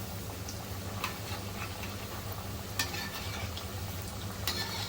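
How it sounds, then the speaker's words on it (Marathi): Steamed aloo vadi slices fry in hot oil until golden brown, making a dense, even sizzle up close with a few faint ticks and crackles and no voices. "तर तांबूस रंगामध्ये तळून घ्यायचे आहेत लगेचच शिजतात ह्या वड्या"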